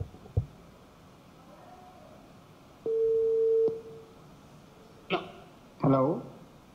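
A telephone call tone sounds as one steady electronic beep lasting under a second amid quiet line noise, followed by short bursts of voices on the call.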